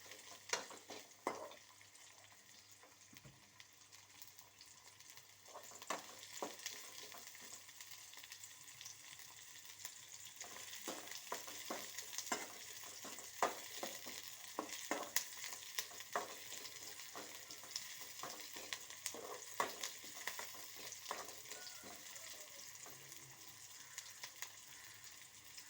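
Curry leaves and onion fry in oil with popping mustard seeds, a quiet continuous sizzle broken by sharp crackles and spits that grow busier partway through, with no talk.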